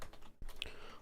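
Quiet, close keystrokes on a computer keyboard as a git command is typed, a short run of soft clicks with one brighter key tap, faint room noise underneath.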